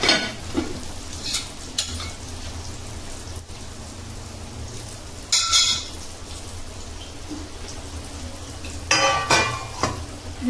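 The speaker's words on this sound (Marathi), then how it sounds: "तर आता एका साईडला पीस फ्राय होत राहतील" Pieces of black pomfret frying in a pan in a home kitchen, a steady soft sizzle running throughout with a few sharper crackling bursts now and then and no talk.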